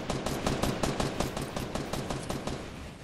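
Rapid bursts of automatic gunfire in the video game Fortnite, loud and continuous, with shots rattling off in quick succession for several seconds.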